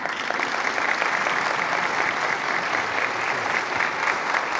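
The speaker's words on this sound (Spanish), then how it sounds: "Reiteramos estos aplausos." A large crowd applauds in a dense, sustained wash of clapping, loud and even from start to finish.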